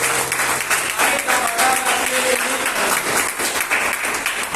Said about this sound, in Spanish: ¿Cuántos pueden dar un fuerte aplauso